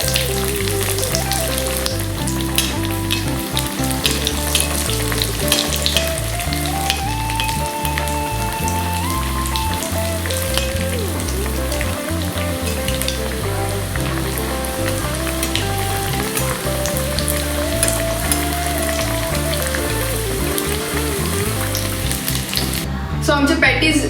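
Patties frying in hot oil over a high flame give a steady, loud sizzle through the whole stretch, over a background of rhythmic music.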